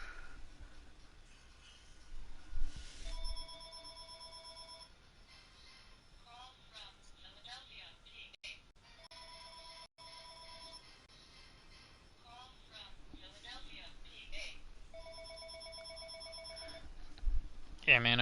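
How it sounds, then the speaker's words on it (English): A telephone rings in the video game Vampyr. Several separate bursts of ringing are spaced by pauses, fairly quiet over a low background. "Oh, there's the phone."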